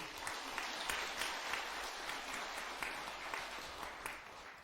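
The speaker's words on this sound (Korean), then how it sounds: "그 불자들한테 한번 박수 한번 보내드리세요" A Buddhist temple congregation at a Dharma assembly marking the end of the winter retreat applauds steadily, a dense, even patter of many hands that holds at moderate loudness throughout with no speech over it.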